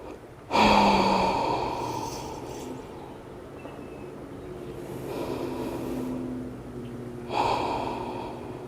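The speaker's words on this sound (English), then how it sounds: "Constrict the back of your throat to create that ujjayi sound. Breathe in and out through the nose." Slow ujjayi breaths drawn in and out through the nose during a relaxed yoga flow, throat constricted into a soft, oceanic rasp. Several long, airy breaths with brief pauses between them, close to the microphone and with no one talking.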